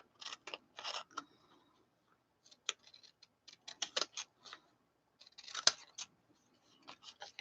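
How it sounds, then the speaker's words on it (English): Decorative edged scissors cutting paper scraps, a run of crisp, close snips and clicks in irregular clusters with quiet gaps between them. "We could take like decorative edged scissors."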